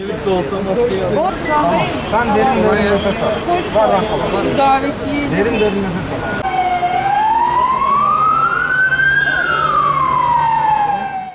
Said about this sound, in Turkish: Vatandaşların haber vermesi üzerine gelen ambulanstaki sağlık ekipleri Döşlüoğlu'na ilk müdahaleyi yaptı